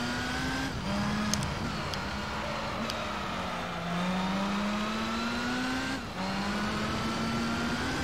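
Porsche engine in Gran Turismo 3 revving and accelerating steadily through gear changes, pitch climbing then dropping at each shift, loud and continuous with a brief lift near the end.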